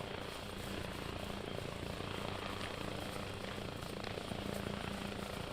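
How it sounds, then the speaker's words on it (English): Helicopters in the combat video game ARMA give a loud, continuous rotor and engine drone, a dense steady roar that holds at the same level throughout with no talk. "Here's some helicopters."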